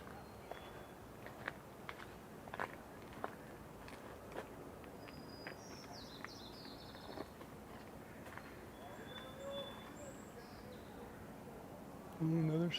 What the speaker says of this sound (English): That's a starling.